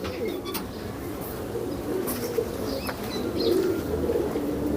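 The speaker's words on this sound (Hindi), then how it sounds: "बहुत बढ़िया लाल गंडेदार भी यहाँ पर उड़ रहे हैं, कलमुए कबूतर भी यहाँ पर उड़ रहे हैं" High flyer pigeons, including red-ringed and black-headed birds, coo softly amid a noisy outdoor background, with faint chirps and brief flutters scattered throughout.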